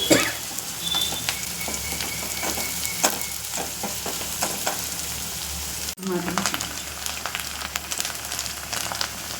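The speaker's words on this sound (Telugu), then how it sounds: "బాగా ఫ్రై అవ్వాలి" Cabbage manchurian pieces frying in hot oil give a steady, close, crackling sizzle throughout, with a brief clatter of stirring partway through and no talking.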